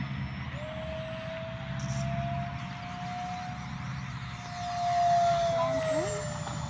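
A radio-controlled 64mm electric ducted fan foam jet on 4S 14.8V power makes a high, whining drone passing steadily overhead, rising slightly in pitch, with a louder surge toward the end over faint background rumble.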